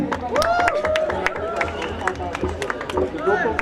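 Crowd of spectators hooting, whistling and cheering at a school sports meet during a 400 m race, a dense continuous babble of shouts and high whistles close by for several seconds.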